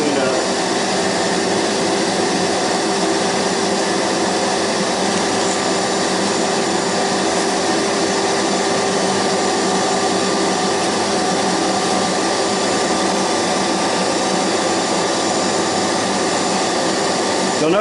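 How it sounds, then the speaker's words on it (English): A vacuum hose sucks up loose grass clippings outdoors, giving a loud, steady, unbroken roar of suction and motor noise that fills the whole stretch without pause. "Just going to come in here and suck all that extra grass up that I don't want."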